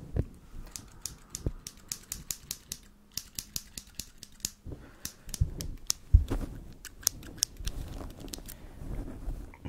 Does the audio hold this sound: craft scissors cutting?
yes